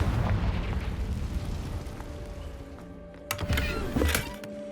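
A Confringo fire blast spell bursts in the Hogwarts Legacy video game, loud booming impacts arriving in two sharp hits near the end over a steady rumbling game background.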